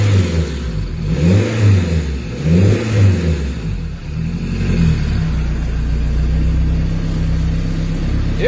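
Pontiac Fiero GT with a swapped Honda K24 engine, running and revved in several rising-and-falling bursts up close, then settling into a steady idle with some mechanical whirring.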